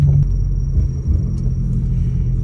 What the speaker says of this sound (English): Dang, my engine's still cold. I guess I'll let it warm up a little.